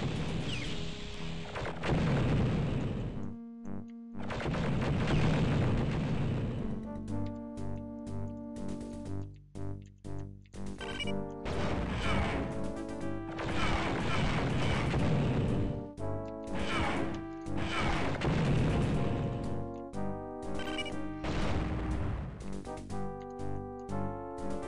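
Turret gunfire echoing down a hallway in the game Dark Forces, heavy blasting bursts repeating in long loud stretches with short gaps between volleys and no talk over them.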